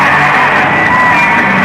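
A packed hockey arena crowd of more than 10,000 roars during an IHL Turner Cup Finals playoff game between the Fort Wayne Komets and Atlanta Knights, a loud, steady wall of cheering and yelling with no break.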